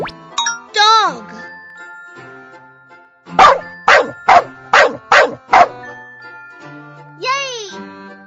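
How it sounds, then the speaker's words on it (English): A cartoon dog barks in a quick burst of about five yaps, bracketed by a voice speaking and bright jingly musical tones. "Dog."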